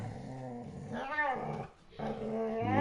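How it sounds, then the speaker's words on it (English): Dogs growling in a low, rumbling snarl that rises and falls, with a brief pause before resuming loudly, close and without any speech. "The dogs want to make some noise now."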